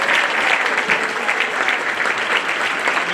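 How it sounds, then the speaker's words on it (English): Packed house at a student awards ceremony giving sustained applause: dense, steady clapping from a large audience throughout, loud and even with no pauses. "Give yourselves a round of applause"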